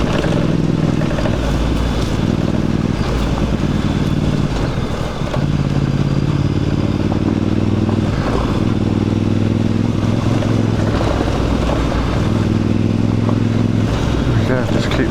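Voge DS625X adventure motorcycle ridden off-road, its engine drone steady and close throughout with clattering over rough ground, a voice talking over it at times.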